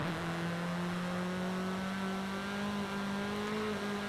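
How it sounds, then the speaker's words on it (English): A Toyota Celica four-cylinder engine in Forza Horizon 5, fitted with a 2JZ swap, holds a steady, droning rev with a rising harmonic whine, loud and continuous for about four seconds with no talking. "Yep, that's very typical Forza Horizon 5 4-cylinder noise."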